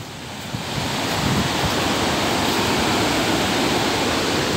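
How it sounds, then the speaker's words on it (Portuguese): Cachoeira Barra do Palmital waterfall roars as a dense, steady rush of falling water heard close up, swelling in the first second and then holding constant with no voices. "Só pra mostrar um pouco melhor a cachoeira."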